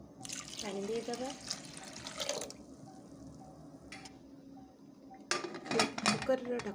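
Water poured into a pressure cooker holding horse gram dal with turmeric and salt, short splashing bursts separated by quiet gaps, with faint metallic clinks of the cooker.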